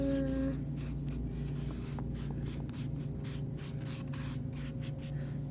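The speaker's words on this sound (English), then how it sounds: "so I'm gonna get my Mod Podge all over." A brush spreads Mod Podge over a book cover in soft, quiet, rhythmic strokes, a faint rubbing swish over a steady low hum.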